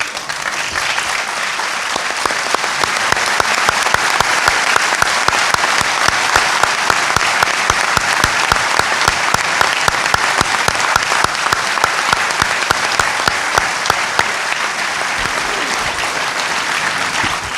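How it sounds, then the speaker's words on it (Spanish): Loud, sustained audience applause at a book launch, a dense wash of many hands clapping that swells and holds steady for the whole stretch, with no voices rising above it. "Le voy a pedir que se pare y si todos le damos un fuertísimo"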